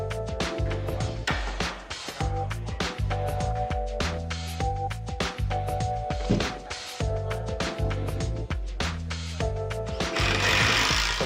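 Plywood and 2x4s being fastened onto a camper shell frame at a camper build shop: a dense run of loud, rapid mechanical hammering and tool bursts, nearly continuous with a brief hiss near the end.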